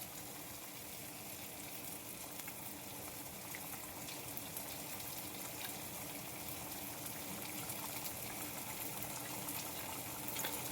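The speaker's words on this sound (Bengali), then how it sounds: "জলটা দিয়ে দিয়েছি, আর গ্যাসটা একটু হাই ফ্লেমে করে দেবো" Hot water poured into cooking masala for fish kofta gravy gives a steady, even wash of hissing and bubbling sizzle that runs the full length at low, constant volume. There is no speech.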